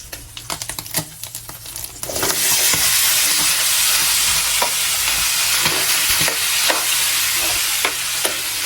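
Squash (kalabasa) goes into a hot pan of pinakbet vegetables: light clinks and stirring taps, then a loud, sustained sizzle that swells and keeps crackling, with scattered spatula knocks.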